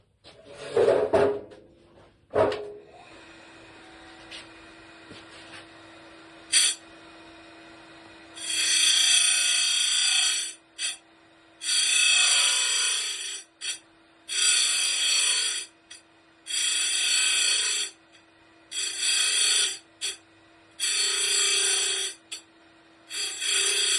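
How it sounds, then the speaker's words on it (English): A grinder motor hums steadily while a dressing tool is pressed against the side of the spinning grinding stone in repeated bursts of harsh, loud scraping, separated by short pauses. "I'll dress the side of this stone, and then I'll grind this"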